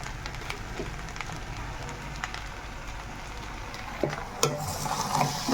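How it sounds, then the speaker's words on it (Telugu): Goat head meat frying in oil in a pan, a steady low crackle and sizzle running throughout, with a few louder spatters and stirring scrapes near the end, no talking. "అదైతే ఫ్రై చేసుకుంటున్నాను చూడండి చక్కగా నూనె వేసి ఫ్రై అయితే చేస్తున్నాను"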